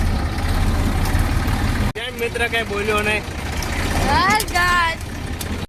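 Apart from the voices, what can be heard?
tractor engine idling, driven by small children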